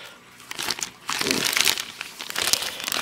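Books inside a plastic bag crinkle and rustle close by in loud, irregular bursts of handling noise, with no voices.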